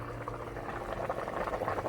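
Pasta boiling in a pot of water bubbles and burbles steadily up close, a continuous rolling simmer with soft popping throughout.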